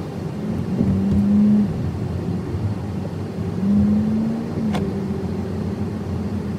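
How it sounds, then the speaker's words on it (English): A car pulls away from a parking lot near a Target store, its engine rising twice in low revving pulls under a steady background rumble, with no talk. "I put my car in drive."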